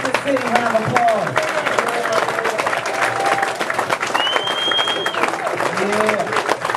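Sustained audience clapping fills the whole stretch, dense and even, while a host's voice speaks over it and a brief whistle or cheer rises midway.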